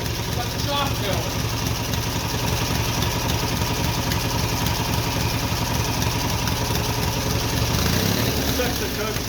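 A twin cylinder Briggs mini bike engine idles steadily and loudly at close range, a continuous rough chugging throughout with a brief shift near the end, while voices talk over it.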